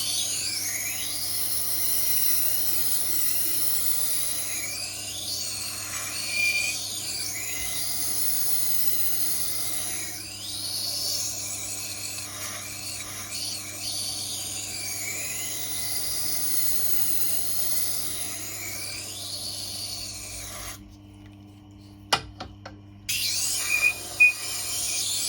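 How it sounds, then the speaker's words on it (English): A kitchen knife is sharpened on a powered grinding wheel, giving a steady whine with repeated rising and falling swooshes as the blade passes across, then a brief gap and a few clicks near the end. "take me about 2 minutes to sharpen this one up"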